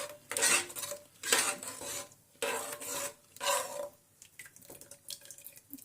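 A spoon scrapes and stirs egg biryani in a metal pot in several rasping strokes separated by short pauses, close and fairly loud with no voices.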